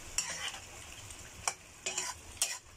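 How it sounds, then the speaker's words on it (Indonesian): Mutton ribs with soy sauce being stirred in a sizzling pan: a low crackle broken by four or five sharp scraping strokes of a utensil against the metal, close and clear, with no talking. "lalu kita aduk"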